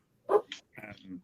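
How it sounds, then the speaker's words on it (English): Dogs bark a few times in the background during an online town hall meeting, short bursts mixed with faint voices. "you can hear the dogs barking in the background"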